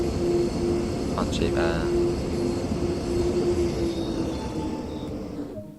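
S-Bahn train on the Leipzig route in Train Sim World 2, a steady rumbling run with a held tonal hum and brief clanks, a voice speaking over it, easing toward the end.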